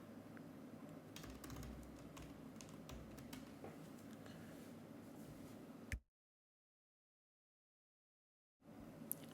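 A password being typed on a Mac computer keyboard: a quick run of light, close key clicks at soft volume for about six seconds, then sudden silence.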